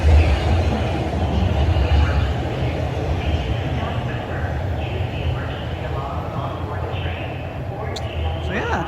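A TTC subway train pulls out of Highway 407 station, a loud, steady low rumble and roar that stays close and even throughout, with faint background voices.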